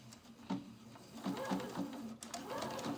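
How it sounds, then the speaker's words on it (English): A sewing machine runs in short bursts of rapid stitching along the edge of a shirt collar, close and fairly quiet, with brief pauses between runs. "Okay, so I'm just going to start sewing again at the edge."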